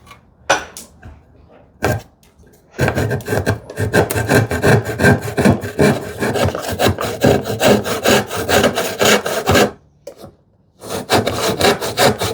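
A hand saw cutting wood clamped on a bench for a shoe tidy project, with loud steady rasping back-and-forth strokes running in long bursts, broken by a couple of short pauses.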